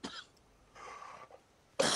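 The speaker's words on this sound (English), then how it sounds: "Your cough is so heavy that it's vibrating my eardrums." A heavy, rough cough from a gamer playing Fortnite, heard close as a couple of harsh bursts separated by quieter breathy rasps, ending in a loud final hack.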